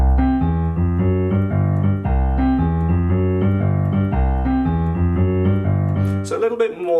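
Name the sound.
boogie woogie left-hand pattern for Jingle Bells on piano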